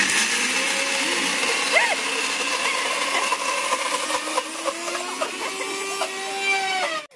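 An electric mixer grinder whirs steadily and loudly throughout in a village home kitchen, its motor pitch shifting slightly as it runs, with faint background voices.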